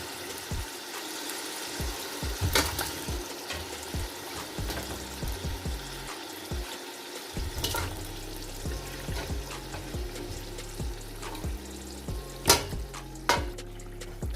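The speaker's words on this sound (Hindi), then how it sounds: "इसके अंदर हम मटन को ऐड कर देंगे जो हमने बॉईल किया था।" Boiled mutton pieces go into a hot pot and fry for a Kabuli pulao, a steady close sizzle with soft stirring knocks and scrapes throughout and no talking.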